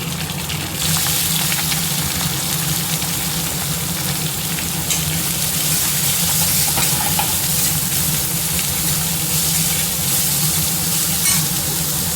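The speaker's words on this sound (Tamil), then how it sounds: "இப்போ பச்சை மிளகாயை சேர்த்துக்கணும் கட் பண்ண வெங்காயத்தையும்" Green chillies and chopped onion hitting a hot pan where pepper and cumin have already been fried, a loud continuous sizzle and crackle with stirring, heard up close without talking.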